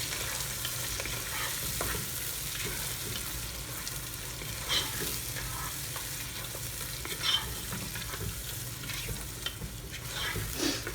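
Prawns cook in a masala in a pot with a steady, soft sizzle and frying crackle, joined by occasional stirring scrapes, with no voices.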